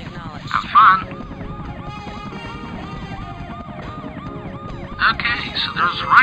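Ambulance siren from the SimCopter video game, a synthetic wailing tone sweeping up and down steadily across the clip beneath engine hum, with brief brighter bursts near the start and end.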